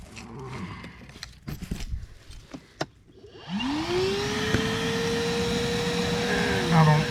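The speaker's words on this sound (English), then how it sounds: "I'm going to pull a quick vacuum on it and get this thing cleared out." A steady, close mechanical drone of a vacuum pump drawing on an air conditioner's drain line during AC service, starting after a few seconds of handling clatter and holding evenly to the end, with a slight rising hum.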